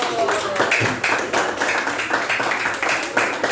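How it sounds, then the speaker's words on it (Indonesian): Classmates clap for a student after a group presentation in a school classroom: steady, dense clapping from a small group, fairly close, continuing throughout with scattered voices underneath. "tepuk tangan buat Kenzo."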